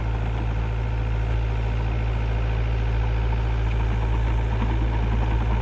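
A 2011 John Deere 60D excavator, just under 6,000 hours, idles nearby as a steady, loud, low diesel rumble with constant vibration and no pauses or voices.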